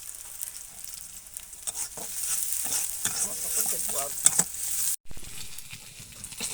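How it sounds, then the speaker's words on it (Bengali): Chillies and onions fry in hot oil for a mashed aubergine dish, a steady soft sizzle with scattered crackles and occasional stirring scrapes, moderately close, briefly cut to silence before resuming. "এখন আমাদের মরিচ পেঁয়াজ ভাজা হয়ে গেছে"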